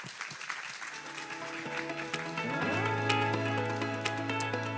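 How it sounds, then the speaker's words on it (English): A crowd at the GLITCH KOREA 2023 event applauds a presentation, the clapping swelling and then holding steady while a sustained musical tone rises underneath. "Let's give a round of applause."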